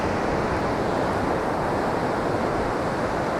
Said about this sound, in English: look at that wave coming along the cliff